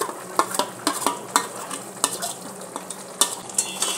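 A spoon stirs chicken coated in freshly ground curry masala in a pan, with repeated close scraping strokes and light sizzling in an irregular rhythm, and no one talking.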